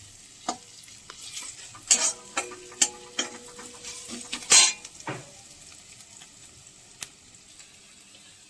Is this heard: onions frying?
yes